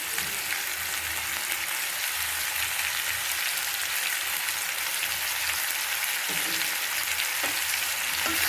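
Cut quail pieces dusted with turmeric fry in a pan with a steady, dense sizzle that holds close and even throughout, with no talking.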